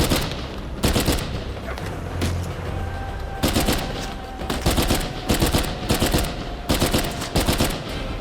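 An FAL rifle fires in Uncharted 4 in loud, rapid bursts, with repeated volleys of sharp shots broken by brief gaps.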